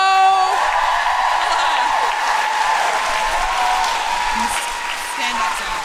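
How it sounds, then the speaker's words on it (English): A live comedy podcast audience claps loudly and steadily, with whoops and cheers mixed through the applause, while a host's voice carries over it at the start. "Please clap your hands and make huge Guilty Feminist woohooing noises for the wonderful Rose Matafeo!"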